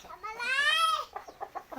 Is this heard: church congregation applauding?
no